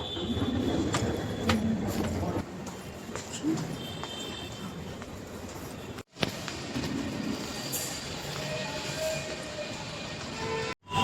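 A metro train running, heard from inside the carriage: a steady, loud rumble of wheels and rails with faint clicks and squeals, dropping out briefly twice, with no one speaking.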